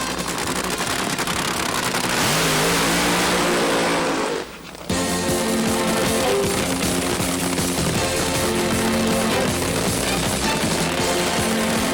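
Garlits' brand new Swamp Rat dragster, nicknamed "rat under glass," roars loud and continuous at the drag strip, with a brief drop in the middle before the engine noise surges back.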